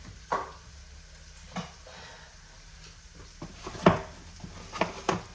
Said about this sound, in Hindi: ये अदरक जब तक फ्राई हो रहा है